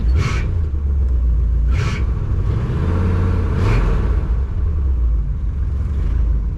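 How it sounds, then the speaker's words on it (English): A 1964 Mercury Monterey V8 runs with a steady low rumble, its engine note rising and falling slightly. The car is apparently running rough at idle, on one bank. Three short bursts of higher hiss sit over the continuous drone, close and loud. "This thing, it revs up good"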